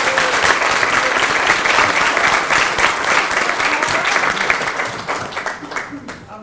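An audience at a shire council meeting applauds loudly and steadily for several seconds, a dense wash of clapping that thins and fades toward the end.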